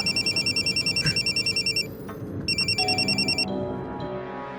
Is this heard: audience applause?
no